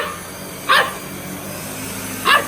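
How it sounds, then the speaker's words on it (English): A new puppy gives two short, high yapping barks about a second and a half apart, moderately close in a quiet room with a faint steady background hum. "If she barks at it, she freaks out."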